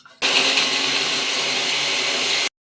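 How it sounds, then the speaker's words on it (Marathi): A mixer grinder whirs loudly and steadily for about two seconds, grinding garlic cloves, small pieces of ginger and green chilies, then cuts off abruptly. "आलं घेतलेलं आहे आणि ह्या मिरच्या हे ह्याच्यामध्ये फिरवून घेऊया."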